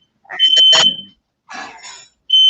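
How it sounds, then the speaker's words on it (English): Fire alarm going off indoors in piercing electronic bursts, two long tonal blasts followed by the start of a third, with brief gaps between them and a voice faintly mixed in. "Is it the fire alarm?"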